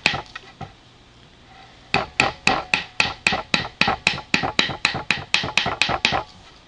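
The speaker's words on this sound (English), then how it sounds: "I'm going to use a rounded chisel and just go in and get off some of this excess wood" A rounded chisel carves excess wood from a cane: a few scattered taps, a short pause, then a steady run of about twenty crisp, evenly spaced strikes, close and fairly loud.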